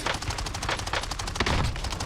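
Rapid bursts of video game gunfire rattle continuously, dense overlapping shots and machine-gun-like fire at steady close volume with no speech.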